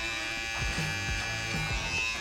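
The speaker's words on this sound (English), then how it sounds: "now we're gonna be ready to use my cordless detailers, LI, which stands for lithium ion" A cordless lithium-ion hair detailer trimmer buzzes close up during a haircut, a steady electric whine with short pitch dips as the blades move through hair.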